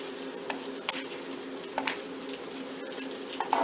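Garlic, carrots, celery and onions sizzle steadily in a pan with a dense crackling fry, punctuated by occasional louder spits and pops, close and alone without talk.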